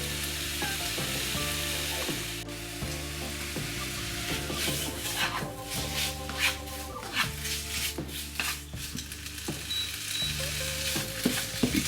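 Sliced lamb frying in a dry pan with no oil, a steady close sizzle and crackle with occasional stirring, alone without talk.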